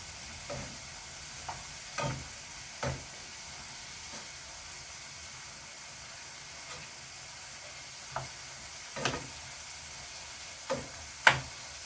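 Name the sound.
stirring sautéed dragon beans with minced pork in pan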